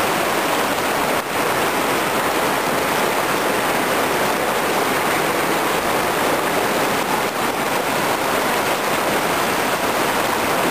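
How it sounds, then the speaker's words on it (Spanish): A river rushing through the Quebrada de Huertas, a loud, steady roar of churning water close by, continuous and unbroken with no voices. "Esta es la zona del río."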